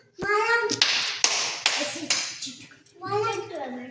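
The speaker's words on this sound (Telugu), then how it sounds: "ఎన్ని క్లాప్స్ ఇచ్చావు?" A child claps hands about five times in a classroom maths counting activity, crisp separate claps among children's voices and talk.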